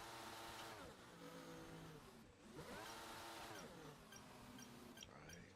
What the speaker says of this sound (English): Couple of burnouts.